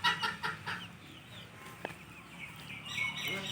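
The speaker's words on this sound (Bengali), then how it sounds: "এটা হচ্ছে মুরগির জাতি" Chickens of an unidentified breed cluck in short bursts, loud at first and then settling to softer calls, with faint outdoor bird chirps behind them.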